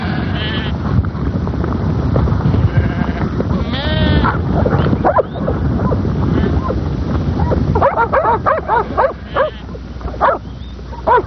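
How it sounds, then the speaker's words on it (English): A large flock of sheep being driven to pasture in New Zealand bleats loudly and continuously, overlapping calls near and far, while working sheepdogs bark intermittently among them. "With these champion sheepdogs, one man easily drives a flock of 500 sheep to new pasture."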